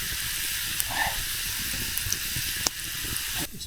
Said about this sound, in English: we hear that nice sizzling going on in there